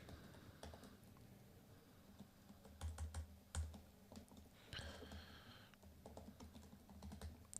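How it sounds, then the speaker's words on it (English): Typing on a computer keyboard that has a faulty B key, a quiet, close run of irregular key clicks and taps with a few heavier presses, with no talking. "Why I type this on the one keyboard where the B key does not work?"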